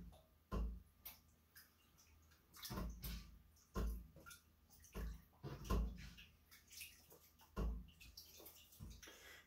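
Ripe raw pears dumped from a lemon water bath into a canning jar, heard as a series of loud, close thuds and wet knocks every second or so, with splashy water in between.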